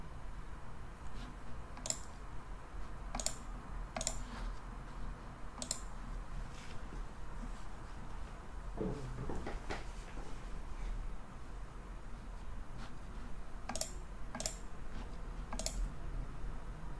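A computer mouse clicks during a SQL Server software install, sharp isolated clicks coming in irregular clusters and pauses across the stretch over a steady background hum, with no talk.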